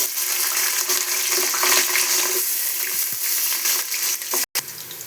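Onions sizzle steadily in hot oil for vegetable pulao, a dense, continuous crackling hiss near and fairly loud, with a brief break toward the end.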